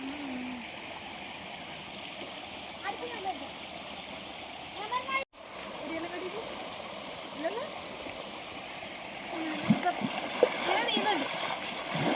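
Water rushes steadily in a stream while bursts of splashing from people bathing come and go, and people talk nearby over the flow.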